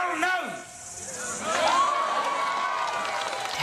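A gathered protest crowd at Waitangi cheers and shouts beneath a loud, impassioned voice addressing them outdoors.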